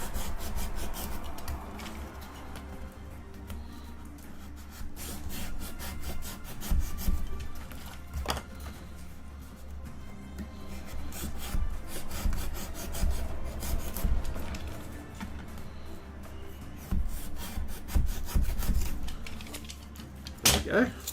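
The edge of a foam or wooden terrain piece for a Middle-earth tabletop game is beveled by hand, giving repeated dry rasping and rubbing strokes in uneven bursts, close and fairly quiet, with occasional voices.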